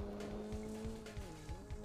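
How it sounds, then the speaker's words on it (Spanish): Race car engine in the Rally Fury racing game, a steady buzzing drone with a shifting pitch and regular low thumps, heard alone at moderate level. "Y la verdad que el coche se escucha bien."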